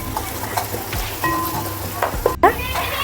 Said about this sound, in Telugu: ఈ ఆనియన్స్ మంచిగా గోల్డెన్ బ్రౌన్ కలర్ వచ్చేంత వరకు ఫ్రై చేసుకుందాం